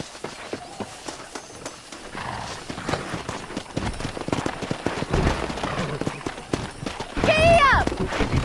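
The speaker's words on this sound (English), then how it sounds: "Let's see if we can't wrangle some horses." Horses galloping in the Western video game Red Dead Redemption, with repeated hoof clip-clop and a whinny near the end, under game music and ambient sound.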